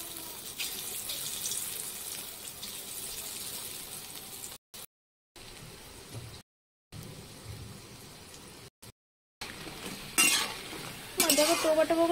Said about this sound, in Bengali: এখন আমি এগুলো বড়া ভেজে নেব পরপর।